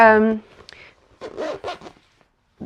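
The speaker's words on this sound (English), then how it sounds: "The zip can get a little bit tight, only because it is waterproof there as well." A zipper is drawn on a waterproof Rains camera bag, a few short rasping pulls after a brief spoken word, close and fairly quiet.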